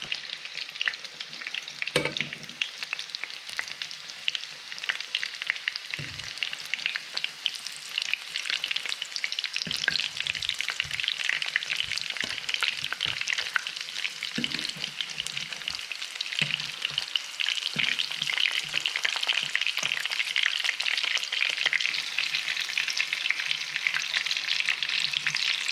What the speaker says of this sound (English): I'm using olive oil to fry these today, just to give it that extra nice flavour and avoid the old vegetable oil.